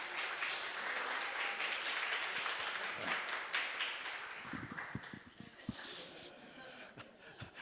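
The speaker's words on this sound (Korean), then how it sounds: "먼저 찬양을 인도해 주신 우리 리지자님께 우리 감사 격려 박수 한번 해주시면 좋겠습니다" A church congregation at a Sunday service claps in thanks for the worship leader. Fairly distant applause fills the first few seconds, then tapers into a few scattered claps and faint murmuring.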